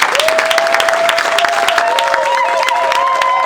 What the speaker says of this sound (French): Je voudrais que nous donnions une grande salve d'applaudissements à Dieu.